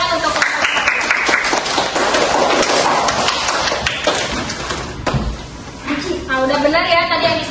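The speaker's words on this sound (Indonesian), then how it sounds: "Beri tepuk tangan untuk" Students in a classroom clap together in a dense burst that fades after a few seconds, followed by a teacher's voice speaking up close.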